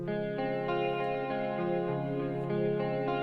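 Sustained electric guitar notes through an effects processor with a chorused and slightly distorted tone, ringing steadily and shifting pitch a few times.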